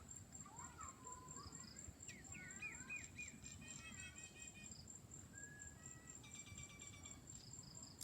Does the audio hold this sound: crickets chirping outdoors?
yes